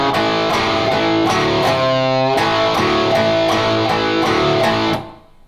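Distorted electric guitar plays a riff as a steady, rhythmic run of driving picked notes with a bend partway through, loud and up close, then cut off at the end.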